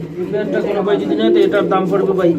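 Domestic pigeons at a pigeon market coo in low, rolling bursts close to the microphone. The cooing carries on continuously beneath loud voices, as people talk over it.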